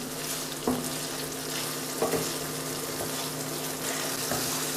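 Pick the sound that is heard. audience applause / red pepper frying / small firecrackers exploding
red pepper frying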